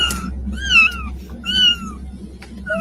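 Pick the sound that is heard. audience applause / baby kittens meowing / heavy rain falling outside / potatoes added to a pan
baby kittens meowing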